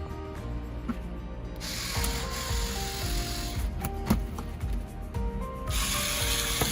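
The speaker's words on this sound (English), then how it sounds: "I'm just using a drill to drill the holes." A power drill whirs and grinds in bursts, with clicking and ratcheting mechanical noise as it drills holes in a plastic sign close by.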